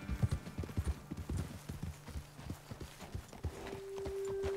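Horse hooves clip-clop in an irregular trot in Red Dead Redemption 2, a steady string of close, fairly loud thuds. A steady tone joins near the end. No one speaks.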